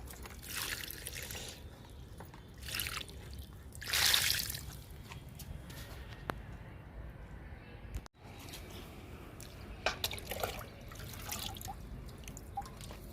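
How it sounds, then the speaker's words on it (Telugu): Water pours and drips in short bursts onto sweet lemon plants, with one louder splash near the start, over a quiet outdoor background. "స్వీట్ లెమన్కి కూడా నీళ్ళు పోద్దాము"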